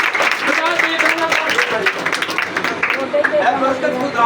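A church congregation claps together during a lively worship service, steady claps running under a loud voice and crowd murmur throughout.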